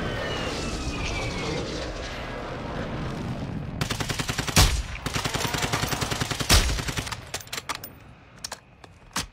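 Gunfire in a video game, with a run of rapid automatic shots followed by two heavy sharp cracks and scattered single shots tailing off, loud and close, after a stretch of rumbling background noise.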